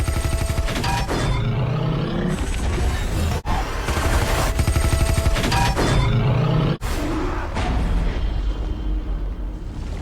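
Gunfire and blasts ring out in an action scene from The Flash film, loud and repeated in bursts amid dense cinematic sound effects.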